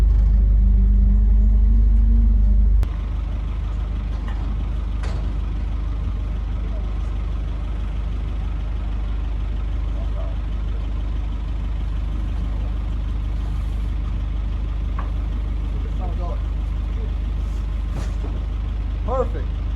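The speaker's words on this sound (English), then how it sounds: "We're gonna back the truck up into the barn and get these rolled out." A truck carrying hay bales backs slowly into a farm barn, its engine rumbling low and steady close by, with a hiss near the start and people talking over it.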